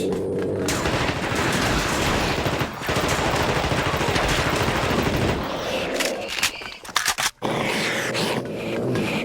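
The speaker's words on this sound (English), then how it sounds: "We just fire into the turret, please." Sustained automatic gunfire pours into a turret in The Thing: Remastered, a loud, rapid rattling fusillade. It breaks into a few sharp bursts and thuds before cutting off, with no voices.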